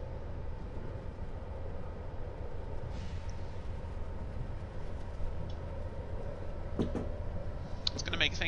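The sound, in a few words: Metro-North train running in Train Simulator 2015 video game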